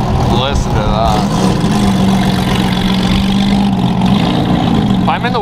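A Porsche GT4 sports car engine with an aftermarket exhaust idles and revs with a deep, throaty exhaust note while people talk over it nearby.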